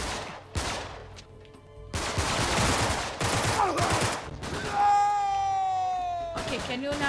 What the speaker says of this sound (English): they are shooting us!